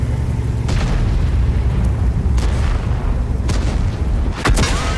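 Tank cannon shots in World of Tanks, several heavy booming blasts spaced a second or two apart over a constant loud engine rumble, the last shot sharp and close.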